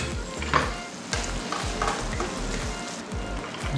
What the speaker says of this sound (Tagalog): ihalo nyo po siya agad with the mushroom and the bacon